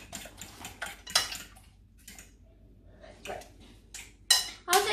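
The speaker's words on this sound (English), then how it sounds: "Like this. Mix it together." A spoon scrapes and clinks against a pot while yam is stirred together with a maggi seasoning cube, in irregular close knocks and scrapes with quiet gaps between them.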